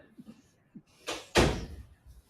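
A door swings open, with a brief rattle of the handle followed by a solid thunk and a louder close-range bang, then quiet.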